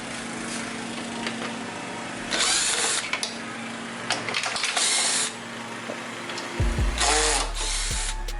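A power tool backs Torx bolts out of a truck's front bumper during a body lift install. It gives three short whirring bursts, each a second or two long, up close against a background of steady noise.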